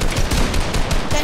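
Rapid gunfire in a first-person shooter video game, loud bursts of shots repeating through a short stretch with dense, continuous crackle.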